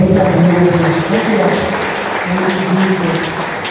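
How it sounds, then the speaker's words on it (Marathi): A crowd claps loudly and steadily at a church prayer gathering. The dense applause runs throughout, with voices or singing faintly mixed in underneath. "आपण सर्वजण जोरदार टाळ्या वाजवून"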